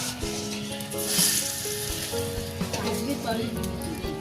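Rice batter for chitol pitha hits a hot clay pan with a loud, close sizzle and frying hiss that swells and holds steady, with faint background hum and a little clatter.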